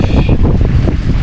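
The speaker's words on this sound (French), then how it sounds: "le vent est revenu" Strong wind buffets a sailboat at sea as it heads straight into a returning headwind, a loud continuous low roar with gusty rumble and wave wash filling the whole stretch.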